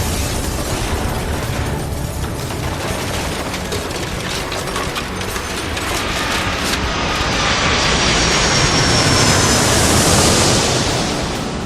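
Jet airplane engine sound from the airport control game Airport Madness 3, a steady broad roar that swells louder toward the end as the plane takes off, with no talking.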